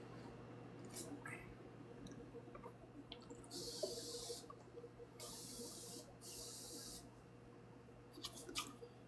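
Urban Decay setting spray misted from a bottle, three fairly loud hissing bursts of a second or so each in a quiet indoor room, with small clicks and soft handling noises around them.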